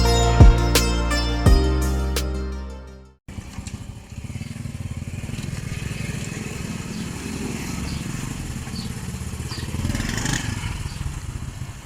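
A motorcycle riding to the market gives a steady, moderately loud engine drone with road rumble for most of the stretch, after a short burst of musical tones at the start.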